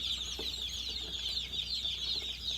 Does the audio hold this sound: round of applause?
no